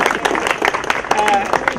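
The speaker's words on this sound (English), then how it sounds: "let's give them a round of applause" Audience applause fills a gathering of the English-Speaking Union, a dense wash of clapping heard up close with a voice talking over it.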